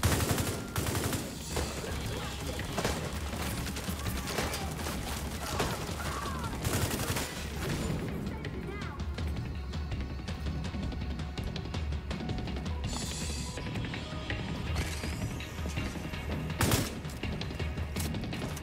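An automated turret keeps up rapid, continuous fire in the shooter The Division 2, with dense overlapping shots running throughout and occasional louder bangs punching through.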